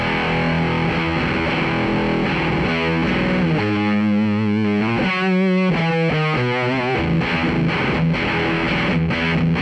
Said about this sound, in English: This is the Hyperion 2.